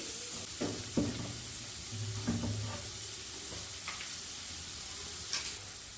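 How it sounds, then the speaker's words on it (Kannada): Onions, curry leaves and green chillies frying in a spoonful of oil in a pot, with a soft steady sizzle and a few light ticks and clinks of stirring, fairly quiet and close. "ಒಂದು ಪಾತ್ರೆಗೆ ಒಂದು ಸ್ಪೂನಷ್ಟು ಎಣ್ಣೆನ ಹಾಕಿ ಸ್ವಲ್ಪ ಕರಿಬೇವಿನೆಲೆ ಹಾಗೆ ಎರಡರಿಂದ ಮೂರು ಹಸಿಮೆಣಸಿನ್ಕಾಯಿನ ಹಾಕಿ ಎರಡು ಕಟ್ ಮಾಡಿಟ್ಟಿರೋವಂತಹ ಈರುಳ್ಳಿನ ಹಾಕಿ ಫ್ರೈ ಮಾಡ್ಕೊಳ್ತಾ ಇದ್ದೀನಿ"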